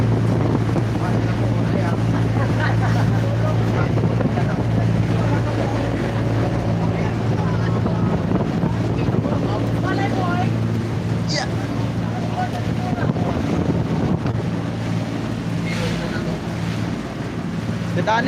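A small boat's motor drones steadily with wind and sea wash around it, while people talk intermittently over the engine noise.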